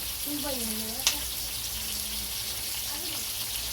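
Biryani ingredients fry in hot oil until brown, giving a steady close sizzle throughout with one brief sharp clatter near the middle and a few faint tonal squeaks in the background.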